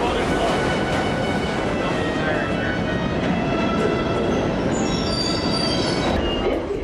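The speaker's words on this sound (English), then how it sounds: "We were then threatened a second time with arrest for filming on the New York subway." A New York subway train rumbles loudly and continuously at close range, its wheels squealing and screeching against the rails over a dense mechanical roar.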